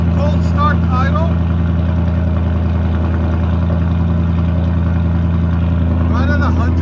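Ford F-250 pickup with a 6.8L V8 and aftermarket exhaust idles on a cold start, a loud steady low rumble throughout, with someone talking over it.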